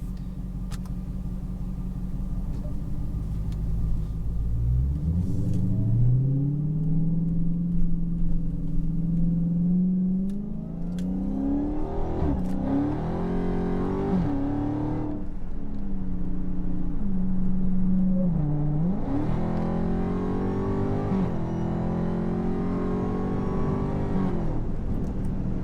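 A Dodge Hellcat engine roars up through the revs in long accelerating pulls, dropping between gear shifts, loud and close for the whole stretch.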